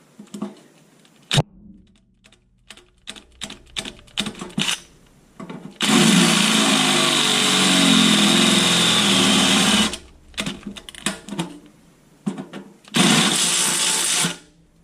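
A power drill fitted with its largest drill bit whirs loudly and steadily for about four seconds, stops, then revs again briefly, with scattered clicks and handling knocks between runs.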